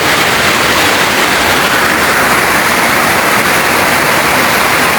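The flooded Talomo River in Calinan, Davao City roars steadily with strong, continuous rushing water, a dense broadband torrent with no pauses.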